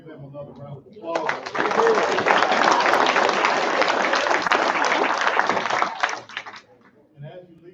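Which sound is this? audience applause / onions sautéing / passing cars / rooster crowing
audience applause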